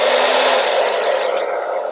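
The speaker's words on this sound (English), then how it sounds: "I just use a blow dryer, my wife's blow dryer to be honest." A hair dryer on high heat blows loudly in a steady, rushing roar with a whining motor tone, close by and uninterrupted.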